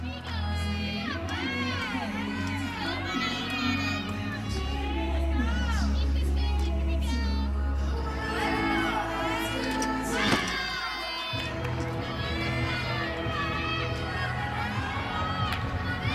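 Packed arena crowd at a college women's gymnastics meet, Arizona at Utah, cheering and shouting loudly and continuously, with a swell of excited voices mid-clip and announcers talking over the noise.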